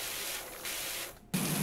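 Pressure washer spraying in the video game PowerWash Simulator, a steady loud hiss that dips briefly and cuts to a short near-silence before surging back in stronger and harsher.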